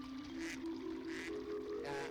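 Duckling quacks in a video game, a few short nasal calls over a steady droning game background with no talk.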